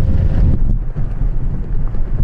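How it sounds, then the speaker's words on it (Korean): Sand-laden wind blows across the Gobi desert in Central Asia, a loud, continuous low roar with gusty buffeting, heard alone without voices. "모래바람이 불면 쌍봉낙타의 콧구멍은 순식간에 닫힙니다."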